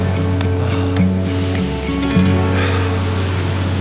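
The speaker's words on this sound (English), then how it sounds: "So good to be back in the ocean." Ocean surf rolling in on the west coast of Australia along the Indian Ocean, a steady broadband wash with a low rumble and occasional swells, no voices heard.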